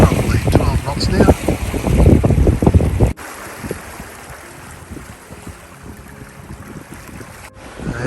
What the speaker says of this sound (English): The wind is slowly building